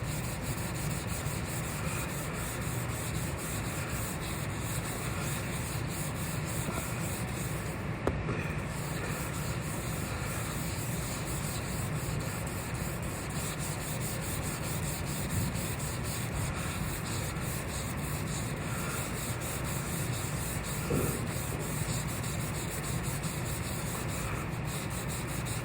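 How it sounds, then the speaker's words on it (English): A sponge scrubs a lithography plate after the gum has been washed off. It makes a steady, close, rhythmic rubbing and scraping that continues for the whole clip, with a few small knocks along the way. "take probably a sponge and scrub it a little bit"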